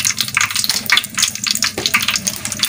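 Mustard seeds in hot oil crackle and sizzle near the mic in quick sputtering bursts, with sharp pops scattered over a hissing frying sound for a few seconds.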